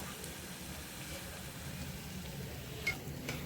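Onion vadas frying in a pan of oil with a steady, even sizzle, stirred now and then, a faint scrape near the end.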